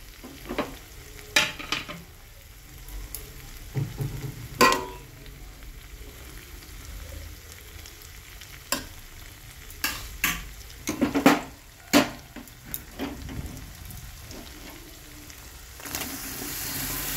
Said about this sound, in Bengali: এরপরে আমি সব সবজিগুলো ঢেলে দেবো।